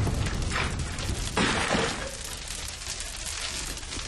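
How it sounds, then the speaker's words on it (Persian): A firecracker bursts with a loud broadband crack near the middle, set in a noisy indoor hall with a crowd, followed by lingering commotion and reverberant noise. "ترقه بود بابا، راحت بود."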